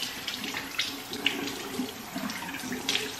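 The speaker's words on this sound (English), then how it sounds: "Okay, now I'm gonna rinse my face." Cold tap water runs steadily from a bathroom sink faucet while someone rinses their face, a close continuous splash with small irregular splatters and no talking.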